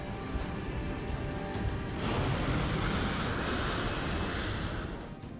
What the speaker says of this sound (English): When the plane lifts off